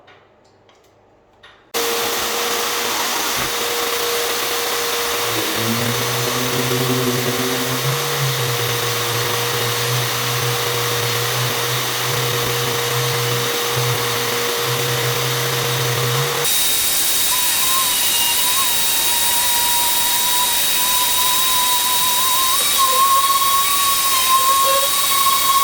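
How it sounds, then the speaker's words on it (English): Mac Allister orbital sander sanding paint on site, starting up after a brief quiet moment and then whirring loudly and continuously with a steady high motor whine and a shift in tone partway through, with no talking. "We are going to be sanding paint"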